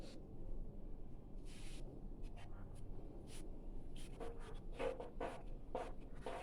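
A line is drawn on a board during a physics lesson, heard as faint, quiet scratching and tapping strokes scattered over a low background hiss.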